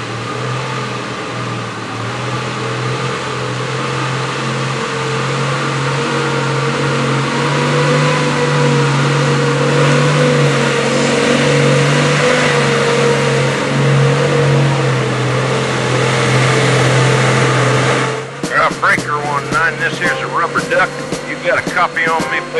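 A Nissan Patrol 4WD engine revs hard and steadily while climbing a hill off-road, a loud sustained drone that cuts off abruptly near the end into clattering noise, with a voice speaking.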